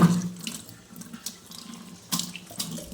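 Tap water runs in a kitchen sink as hands are washed while cooking khichdi, a steady close splashing stream with a few louder splashes and no speech.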